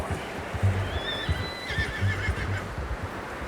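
A horse in Red Dead Redemption 2 gives a loud, close whinny over soft game ambience, with hooves clopping faintly underneath.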